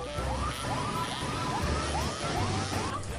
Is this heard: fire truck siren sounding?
yes